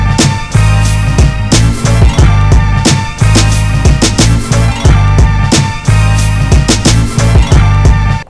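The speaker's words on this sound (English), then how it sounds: "So what you're hearing is the sample, a drum loop, and then a filtered out bass." A chopped sample, punchy drum loop and filtered bass play back through an MPC Live 2, with loud, steady looping beats and heavy low end repeating in a tight rhythm.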